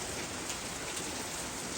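Steady rain falls on autumn trees with leaves turning and some branches already bare, a dense, even hiss of drops that stays close and constant throughout, with no voices.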